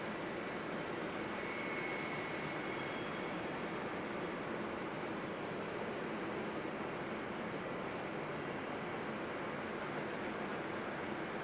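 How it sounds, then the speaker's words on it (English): A Jetstar aircraft at Auckland Airport in fog, heard as a steady, broad, far-off jet engine roar that holds at an even level throughout, with no voices. "there is a Jetstar aircraft down there waiting to head off to Queenstown"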